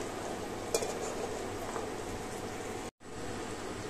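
Soft, steady sizzling of amaranth bean pods frying in tempering oil, a gentle crackle with a clink near the start and a brief cut to silence near the end.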